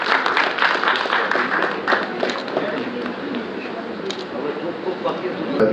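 An audience claps at a Bengali cultural award event, dense and steady applause filling the hall, fading slightly midway while voices carry on over it.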